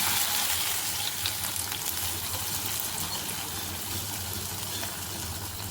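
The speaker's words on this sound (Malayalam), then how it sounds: "അതിനകത്തോട്ട് ഉള്ളി മൂപ്പിച്ച് ഒഴിക്കുക" Sautéed onions in hot oil poured into a simmering fish curry, giving a strong hissing sizzle with a watery gush that starts loud and settles into a steady, slightly fading crackle.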